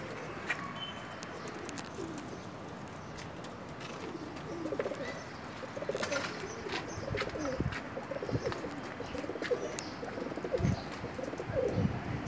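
Pakistani pigeons coo softly in a loft in Jeddah, Saudi Arabia, with low, repeated burbling calls over steady background noise and scattered chirps, fairly faint and continuous throughout.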